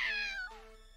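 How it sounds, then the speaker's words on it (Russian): A fish character in the video game Salty Fish Go! lets out a single loud, clear cat-like meow that rises and then fades within about a second, with no other sound around it. "мяукнула как кошка почему-то"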